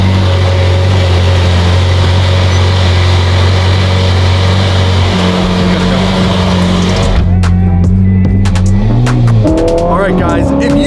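A Ferrari engine idles with a loud, steady tone, then revs sharply in several quick bursts that rise and fall, and a person talks near it.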